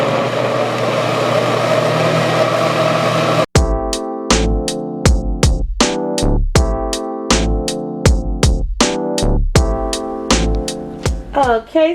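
A blender whirs on low speed while making a smoothie, giving a steady motor drone for about three seconds before it stops abruptly. Punchy rhythmic music with repeated beats follows.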